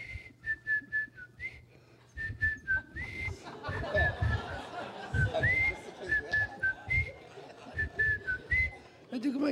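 A man whistles an imitation of a bird's song heard in a backyard in São Conrado, Rio, in short repeated warbling phrases with sliding pitch, set against background chatter and speech.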